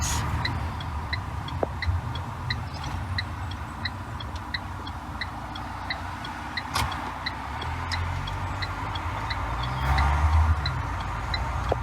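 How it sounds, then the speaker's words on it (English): A car's turn indicator ticks steadily and evenly while signalling right, on an adapted vehicle fitted with a secondary unit for steering and indicating. The ticks sit clearly over a low, constant engine and road rumble. "So we're just going to signal right."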